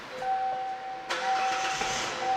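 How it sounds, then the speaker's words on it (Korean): A V6 car engine is started cold from the driver's seat, with a chime tone running before and after. The starter catches sharply and settles into a steady, close idle. "엔진 시동 걸면은"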